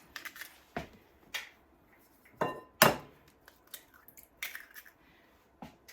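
A whisk strikes the sides of a bowl while two eggs are beaten, making irregular metallic clinks and taps with quiet gaps between them.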